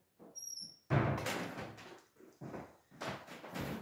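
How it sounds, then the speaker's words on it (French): A door is pushed shut with a solid thump after a faint high tone, followed by a few more rattling bumps and shuffles nearby. "Ici, je ferme la porte."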